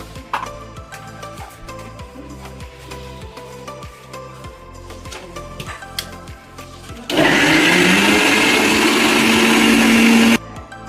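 Kitchen mixer grinding a chutney of tomato, onion, green chili, coriander leaves, ginger, salt and lime juice, a loud, steady whirring roar that runs for about three seconds and then cuts off, after quieter clattering and handling noise.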